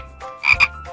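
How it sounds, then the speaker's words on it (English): A frog sound effect for a children's picture-book read-aloud: two quick, close, throaty croaks in a row, heard alone. "Green frog,"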